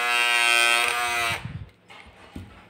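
An electric hair trimmer buzzes loudly and steadily on tape, then cuts out abruptly and leaves softer rustling and scraping of the jammed tape.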